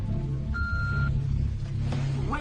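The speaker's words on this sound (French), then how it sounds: "Laissez-nous un message après le bip" An answering machine gives a single short, clear electronic beep about half a second long, heard over a low, steady background rumble.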